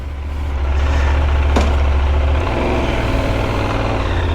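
A QJ SRT 800 motorcycle engine idles steadily before a ride, a loud, close, continuous low rumble with a slight shift in tone partway through and no one speaking.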